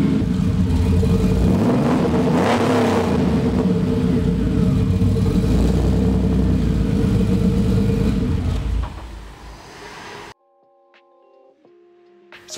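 A Porsche 964 with a newly fitted exhaust, including a G-pipe, revs in a workshop: a loud, sustained engine roar with rising and falling pitch for about ten seconds, then it cuts off abruptly, leaving faint ticking and clicks.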